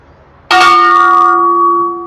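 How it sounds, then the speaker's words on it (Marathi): A single loud strike of a large temple bell, close by, followed by a long, humming ring that slowly fades. "आपल्याला इथे घंटा पण आपल्याला विशाल महाकाय घंटा बघायला भेटते मंदिराची"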